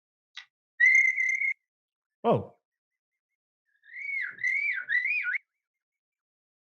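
A man whistles with his lips alone, no leaf or grass, imitating a bird with a short sharp chirp, a held tone, then a warbling trill; one brief spoken exclamation falls between the calls.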